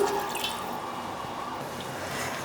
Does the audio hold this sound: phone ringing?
no